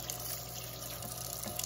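Warm tap water runs steadily from a faucet at a kitchen sink during cleaning of tin-lined copper pots, a constant moderate stream with no voices over it.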